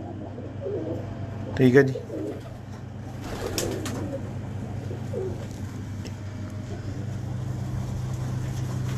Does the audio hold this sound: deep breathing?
no